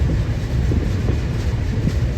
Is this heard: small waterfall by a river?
no